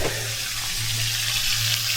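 Steady, loud sizzling of food frying in hot oil, a continuous crackling hiss close by with a low hum underneath.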